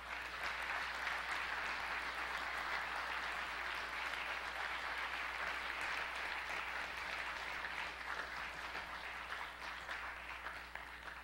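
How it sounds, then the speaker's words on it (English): Sustained applause fills the room for graduates walking up to the platform during a church service, a steady dense clapping wash that holds for the whole stretch without any talk over it. "let's give them a round of applause as they make their way up"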